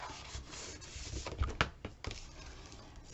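Paper being folded and burnished into an album hinge, a close run of dry rubbing and creasing strokes with a few sharper crinkles midway, quiet and alone.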